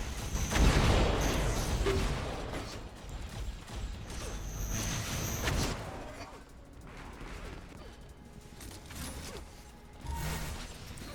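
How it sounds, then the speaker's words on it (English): Dense bursts of rapid gunfire and mechanical clanks from an Unreal Tournament match, loud at first and then thinning into intermittent shots, with a commentator's voice over it. "Multiple shots coming up by Wolverine, just pushing him around at this point."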